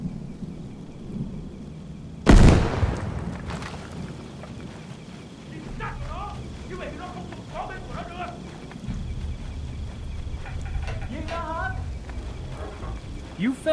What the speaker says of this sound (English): I need to throw a frag first before going down.